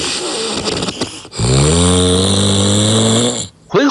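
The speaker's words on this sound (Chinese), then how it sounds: "浑厚响亮的鼾声让枕边人相当痛苦" Loud, deep snoring from a sleeping person, one long rumbling breath close to the microphone, preceded by a rougher noisy stretch and cut off by a brief pause near the end.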